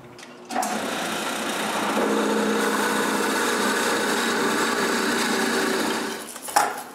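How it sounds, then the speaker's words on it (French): A drill bores holes through wooden tripod blocks in a woodworking shop, its high whirring motor running steadily for about six seconds after a short start, then spinning down, with a brief knock near the end. "puis percer les autres trous"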